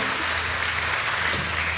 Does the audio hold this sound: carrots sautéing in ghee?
no